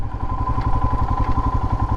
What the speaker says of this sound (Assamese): বাইক আমাৰ পূৰা এতিয়া অ'কে হৈ আছে